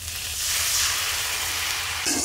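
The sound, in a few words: water sizzling as it is added to frying spice masala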